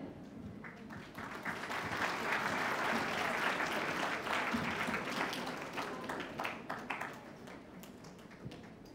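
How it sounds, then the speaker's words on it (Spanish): An audience at an arts and humanities congress applauds after a talk, a dense, sustained burst of clapping that swells, holds for several seconds, then gradually thins out. "Un fuerte aplauso, por favor."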